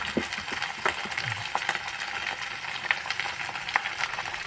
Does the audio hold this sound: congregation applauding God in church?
no